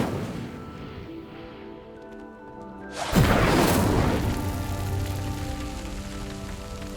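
Incendio fire spell from Hogwarts Legacy igniting a pyre: a sudden loud whooshing burst midway that settles into a sustained fiery roar over a quieter ambient game backdrop.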